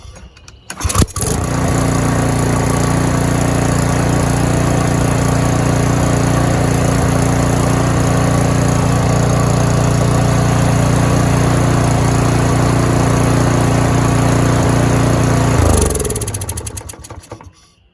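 A small engine, just reconnected to a fresh fuel line, cranks and catches, then runs steadily and loudly for about fifteen seconds with a lawn-mower-like drone before shutting off.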